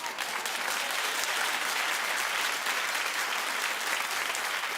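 Studio audience on a daytime talk show breaks into sustained applause, a dense, even roar of clapping filling the room without any voices over it.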